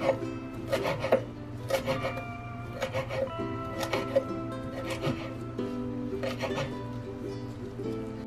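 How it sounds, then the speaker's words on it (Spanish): Fresh parsley chopped with a knife on a board, steady repeated thuds and scraping strokes in an even rhythm, close and clear over a faint background hum, with no voice. "Lo voy a cortar en pedacitos."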